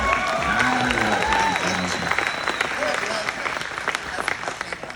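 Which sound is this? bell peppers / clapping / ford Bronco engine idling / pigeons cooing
clapping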